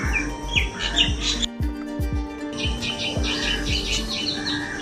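Quails chirp and squawk in quick repeated calls, close by, over a background of rhythmic tapping and clatter.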